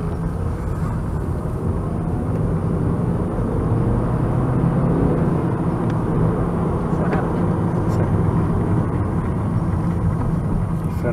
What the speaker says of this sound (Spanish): Suena bien, no hace vibraciones raras, no se va el coche para ningún lado.